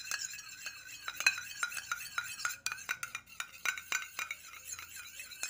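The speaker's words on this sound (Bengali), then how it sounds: "এবার জল আর তেলটাকে খুব ভালোভাবে ফেটিয়ে নিচ্ছি।" Water and a spoonful of white oil beaten together in a bowl for a rice-flour-free chitoi pitha batter, a steady run of quick clinking taps and scrapes of utensil against the bowl, close and fairly quiet, without speech.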